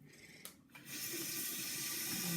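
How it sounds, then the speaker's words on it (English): Hot water from a tap runs into a sink, starting with a few splashes and then settling into a steady close rushing stream, with no talking. "You're going to hear the tap running"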